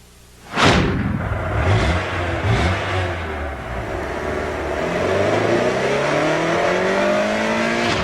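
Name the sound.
Prelude VTEC car accelerating, 190 horsepower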